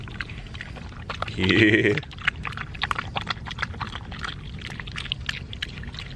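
Water pours briefly into a dog's bowl at a camp in the New Jersey Pine Barrens, a short splashy gush close by, then fades into soft ambient rustling while a person speaks briefly.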